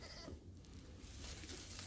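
Newborn lamb bleating in a sheep pen after a difficult birth: a faint, thin bleat heard through steady farm background noise.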